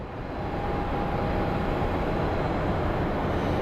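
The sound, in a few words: airplane departing from Phoenix Sky Harbor airport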